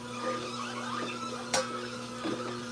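Close, steady droning whine of a juicer motor chewing through unpeeled apples, broken by a sharp crack of grinding fruit midway and a smaller one near the end, with no speech.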